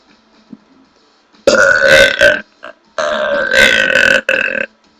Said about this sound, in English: Okay, yeah, I burped.